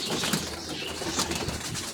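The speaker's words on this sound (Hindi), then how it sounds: "ये क्रीज में पड़ा हुआ कबूतर।" A pet pigeon held in a pigeon-keeper's setup gives off a short burst of fluttering and soft bird noise close up, with dense rustling over a couple of seconds.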